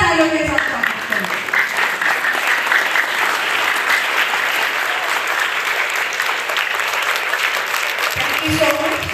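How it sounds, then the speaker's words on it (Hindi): An audience at the inauguration of the first Andaman and Nicobar International Open FIDE-rated chess tournament stands and applauds loudly and steadily for several seconds, the clapping fading near the end as a voice returns. "मैं चाहूँगी कि आप सभी हमारे सभी गेस्ट के लिए खड़े होकर जोरदार तालियों के साथ स्वागत करें।"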